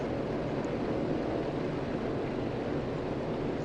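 A floatplane taxiing on the step across water in a flight simulator, a steady droning engine and propeller roar held at constant loudness for several seconds with no voices.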